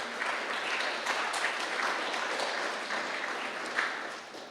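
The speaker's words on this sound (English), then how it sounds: "So a round of applause for Europa Nostra" Audience applause at a Climate Heritage Network general assembly held during COP26, a dense, steady wash of many hands clapping throughout, fairly distant and even with slight swells.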